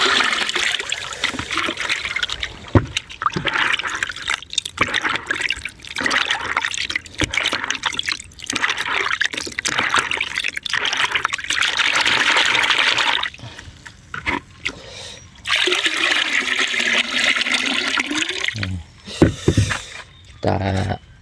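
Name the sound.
liquid organic fertilizer poured into a water tank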